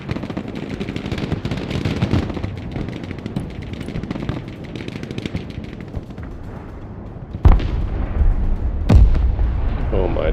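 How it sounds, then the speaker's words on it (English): Rocket barrages and explosions thunder from the Broken Arrow war game, a dense rumbling volley of blasts with two sharp, heavy impacts near the end, loud and continuous. "Those rockets are just ridiculous, dude."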